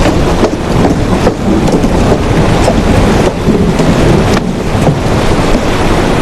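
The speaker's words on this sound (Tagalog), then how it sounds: "Malakas ang ulan" Heavy rain pouring down in a loud continuous broadband roar, with gusty surges and no voices.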